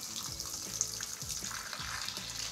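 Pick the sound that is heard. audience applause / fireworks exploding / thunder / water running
water running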